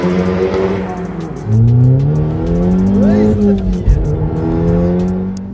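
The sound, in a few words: Audi S3 car engine revving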